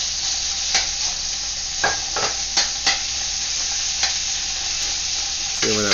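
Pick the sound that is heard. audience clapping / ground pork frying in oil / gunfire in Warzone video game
ground pork frying in oil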